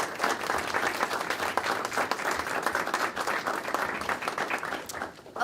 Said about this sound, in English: you deserve a little round of applause